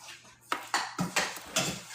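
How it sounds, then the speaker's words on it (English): A spoon scrapes and knocks against a pot of plant-based dirty rice as coconut milk is stirred in, giving five or six close, sharp metallic clinks at an uneven rhythm, with no voices. "Okay, so we're gonna give this a stir"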